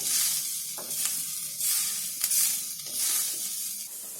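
Masala roasting in a pan until it turns red: a steady dry sizzle with scraping stir strokes coming in regular pulses, close and moderately loud, with no talking.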